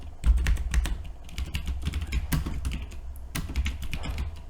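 Rapid typing on a computer keyboard, with dense irregular clicks and a few heavier key presses such as Enter, close up over a faint low hum, with no talk.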